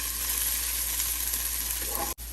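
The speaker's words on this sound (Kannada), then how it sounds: "ಸೊ ಇದು 1 ನಿಮಿಷ ಹೀಗೆ ಫ್ರೈ ಮಾಡೋಣ, ಅದು ಹಸಿ ವಾಸನೆ ಹೋಗೋ ತನಕ ಜಿಂಜರ್ ಗಾರ್ಲಿಕ್ ಪೇಸ್ಟ್ದು" Ginger garlic paste frying in a pan, giving a steady, even sizzle with a brief break near the end.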